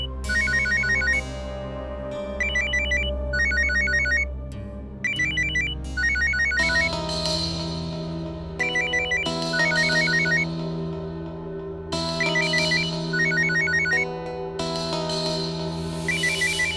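A telephone ringtone plays a melodic, looping chime early in the morning, loud and continuous with brief repeated phrases, and no voices are heard.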